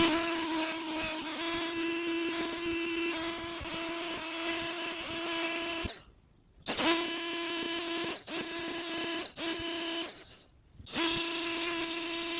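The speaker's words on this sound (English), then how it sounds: "this little die grinder with this abrasive wheel" Die grinder with an abrasive wheel sharpening a metal digging tool for litter cleanup, a loud high-pitched whining grind in long bursts, cut by two brief pauses before starting again.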